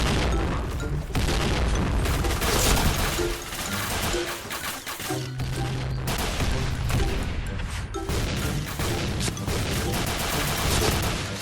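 Gunfire in the battle royale game PUBG, repeated bursts of shots and booms in a busy, continuous exchange over several seconds, loud and close, with brief lulls between volleys.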